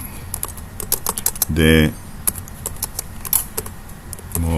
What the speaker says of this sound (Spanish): Vamos a escribirlo con el teclado que es más cómodo.